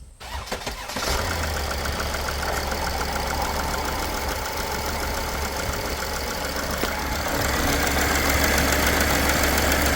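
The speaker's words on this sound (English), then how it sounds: "I've got the reservoir filled, so I'm going to start the engine now." A Mercedes W164 engine cranks briefly and catches, then settles into a steady, loud idle that runs on without a break, close by with no talk.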